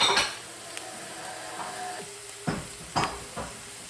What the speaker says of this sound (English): So when I went to cook my steak, I made sure that my skillet was already hot on like a 4 to 5 heat.